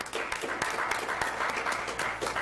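An audience at a 2020 military graduation ceremony for Blount County Schools applauds a graduate, giving steady, dense clapping from many hands in a hall that holds at an even level.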